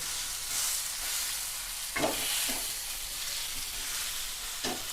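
An uttapam topped with onion and tomato sizzling steadily in a hot pan, a continuous close frying hiss with a few soft scrapes and taps.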